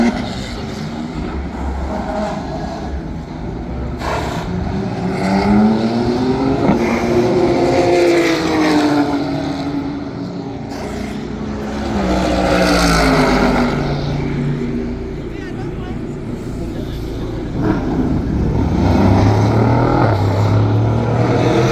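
Race cars including a Lamborghini Temerario and a McLaren at Paul Ricard during a GT World event, engines roaring and rising in pitch as they pass, loud and continuous with a brief lull mid-way and a few voices chatting.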